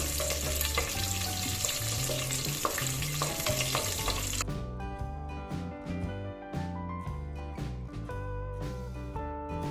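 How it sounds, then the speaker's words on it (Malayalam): Cashews and raisins fry in refined oil, sizzling and crackling steadily in a pan throughout, loud and close, with the texture shifting partway through as stirring with a wooden spatula continues. "ഇതാദ്യം നമുക്കൊന്ന് വറുത്തെടുക്കാം."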